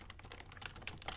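Fast, light clicking of keys on a computer keyboard, a quick continuous run of taps heard close up and quiet, with no voices.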